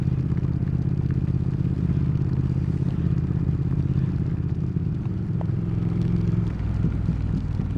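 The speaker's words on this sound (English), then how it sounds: "A lovely burble on the overrun." A 2019 Triumph Speed Twin motorcycle burbles steadily from its exhaust on the overrun, a continuous low rumble heard close up over road and wind noise during a rainy ride.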